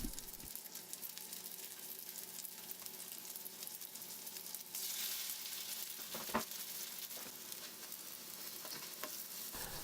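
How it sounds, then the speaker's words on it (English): Strips of homemade vegan bacon pan-frying, giving a steady, soft sizzle that runs unbroken throughout, with a faint stirring sound and one brief clack near the middle and no voices. "All that's left now is just to pan fry it until it reaches your desired level of doneness."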